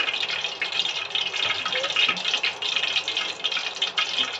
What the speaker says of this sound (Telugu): ఇక్కడ ఆయిల్ అనేది మంచిగా ఇట్లా వేడిగా కావాలి చూసారా బబుల్స్ ఎట్లా వస్తున్నాయో